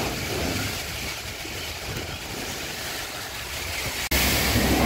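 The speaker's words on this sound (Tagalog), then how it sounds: "Lalong lumakas yung hangin." Strong typhoon wind during Typhoon Uwan in Daet roars as a loud, continuous broadband rush with no pauses, briefly dipping near the end before surging again.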